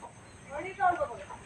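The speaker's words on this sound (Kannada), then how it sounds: "ಕೋಳಿಗಳು ಕಾಯ್ತಾ ಇದ್ದೀನಿ." Chickens cluck close by in a rural yard, a short burst of clucking rising in the middle and tapering off, with a voice mixed in.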